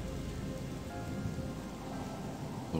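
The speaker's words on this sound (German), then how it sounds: "Schade, dass es regnet." Steady rain falls in a video game, a dense, even hiss with faint low rumbling underneath throughout, loud and constant with no voices.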